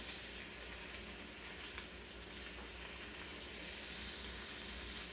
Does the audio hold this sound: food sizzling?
yes